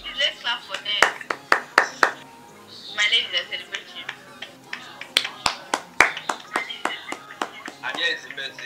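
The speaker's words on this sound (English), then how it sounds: "Let's clap for them." A few people clapping to celebrate winners of a channel rebranding contest, sparse sharp claps in irregular bursts mixed with near continuous talking and cheering voices, likely over an online call.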